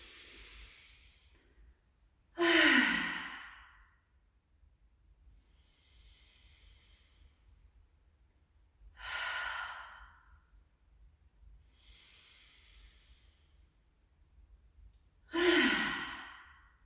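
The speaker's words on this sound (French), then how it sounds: "Et puis, prenez 3 profondes respirations agréables." Three slow, deep breaths during a sophrology relaxation exercise, each a soft, close exhale spaced several seconds apart, with quiet inhales faintly audible between them and near silence otherwise.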